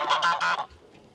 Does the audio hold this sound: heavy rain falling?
no